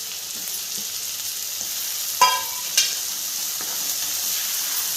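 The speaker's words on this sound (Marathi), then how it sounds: "तेल सुटलं आहे आपलं तर वांगे टाकून घेते ह्याच्यात" Eggplant pieces go into hot oil over onions and sizzle steadily in the pan, with a couple of sharp spatters partway through.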